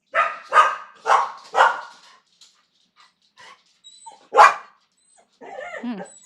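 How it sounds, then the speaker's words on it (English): A dog barks loudly four times in quick succession close by, then gives one more sharp bark after a pause, followed by softer whimpering yips. "That's a loud dog."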